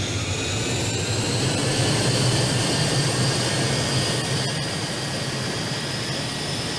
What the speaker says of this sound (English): Alright, let's go ahead and stop it. Full throttle.